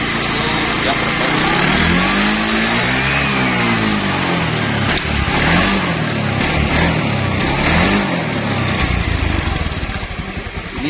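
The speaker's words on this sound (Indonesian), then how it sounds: "Motor kalau putaran bawah normal, tapi kalau gas mentok itu dia merebet." Honda Vario fuel-injected scooter engine revving hard and sputtering at high rpm, a loud close drone that climbs and dips in repeated throttle blips with uneven, stuttering misfires, under someone talking.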